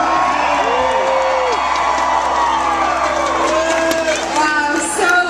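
A large crowd cheers and whoops loudly and continuously at a torch event, high excited shouts and squeals rising above a steady roar throughout.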